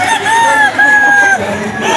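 A rooster at a pet market crows one long, loud, drawn-out call right up close, with no talking.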